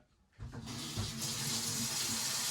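Cold water gushes from a tap into a Pinter keg, starting abruptly and then running as a steady, fairly loud rush.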